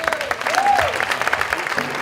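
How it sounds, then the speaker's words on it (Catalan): A crowd at a disco anniversary show applauds a performer as she is introduced, clapping and cheering under a rising and falling whoop or whistle, with voices mixed in. "Fort aplaudiment per ella!"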